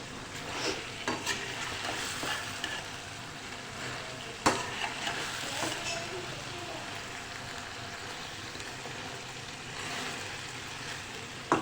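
Pickle being mixed into a sizzling aloo baingan curry in a pan, a soft continuous sizzle with occasional spoon scrapes and one sharp knock on the pan, fairly quiet and without speech.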